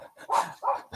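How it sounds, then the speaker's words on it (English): A German Shepherd barks two or three times in short, fairly close bursts, with brief gaps between them and no talking over it. "It's a German Shepherd, and he always barks at our cat."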